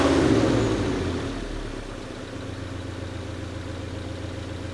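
A car engine in a garage revs up to around 2,000 RPM and holds there, a steady mid-pitched hum that eases down after the opening surge, with a brief sharp sound at the very end.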